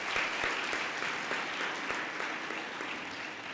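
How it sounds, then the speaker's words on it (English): Warm audience applause at a university graduation ceremony, a large crowd clapping in a dense, sustained patter that fades slightly toward the end. "a warm round of applause for that support to you."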